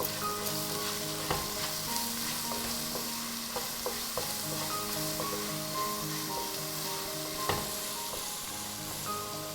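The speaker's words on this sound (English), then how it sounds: "Then we can add the freshly grated carrots and stir in for a minute" Freshly grated carrots are stir-fried with curry leaves and red chilies for coconut rice, giving a steady, close sizzle and frying crackle with occasional clinks of a spatula against the pan.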